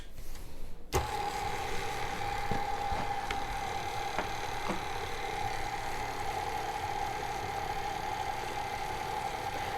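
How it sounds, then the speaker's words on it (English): KitchenAid stand mixer mixing a meatball mixture with garlic, spices, salt and pepper, a steady motor whir and hum running continuously throughout with faint occasional knocks, close by and without talking. "The KitchenAid does a really good job of mixing meatloaf and meatballs."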